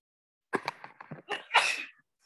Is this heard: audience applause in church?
no